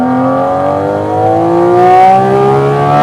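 A Porsche 718 Cayman GT4 RS engine revs hard, its pitch climbing steadily in one loud, close, continuous pull with no talking over it.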